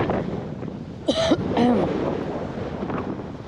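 A couple of short throaty coughs from red tide irritation over steady wind noise outdoors at the beach on Lido Key, close to the microphone.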